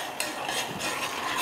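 Rice porridge for a baby is stirred in a pot, a steady scraping swirl of spoon against metal with faint bubbling, close and continuous with no talking.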